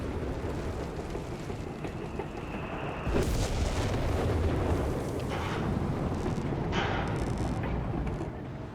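Self-propelled artillery firing in the strategy game Company of Heroes 3, a continuous, heavy rumble of distant booms and explosions that swells and thickens partway through and stays dense until it tapers off.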